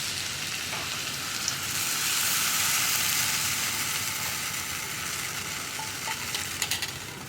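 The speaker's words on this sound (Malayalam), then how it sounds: "ഞാനിനി ഇതിലേക്ക് തേങ്ങാപ്പാൽ ചേർത്ത് കൊടുക്കാൻ പോവുകയാണ്" Second-press coconut milk going into a simmering potato stew with chicken, a steady bubbling sizzle with faint scraping and clinks near the end.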